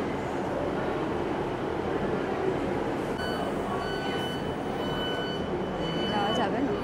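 A passenger train rolls through the English countryside near Little Switzerland, heard from inside as a steady, loud rumble and rattle of the carriage with a few faint tonal whines, and no speech over it.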